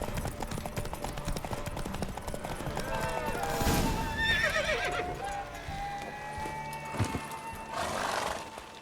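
In the video game The Witcher 3: Wild Hunt, a mare's hooves clip-clop at a gallop while she neighs loudly, with a second whinny near the end and some voices over the hoofbeats.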